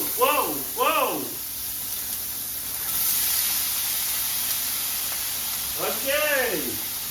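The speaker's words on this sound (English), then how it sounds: "If it sizzles, you know it's hot enough." Mince sizzles in a hot frying pan with a steady, close hiss that swells slightly in the middle, while voices rise and fall over it at the start and end.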